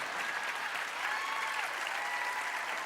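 A television talent show audience breaks into sustained, even applause during a magic act, a continuous wash of many hands clapping at a moderate distance with no voices over it.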